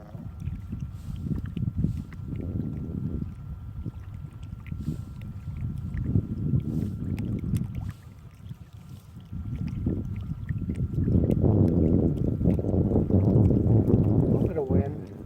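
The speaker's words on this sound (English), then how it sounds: "A little bit of wind." Wind gusts rushing across open water around an inflatable fishing pontoon, rising and falling in loud swells with brief lulls, while someone talks intermittently over it.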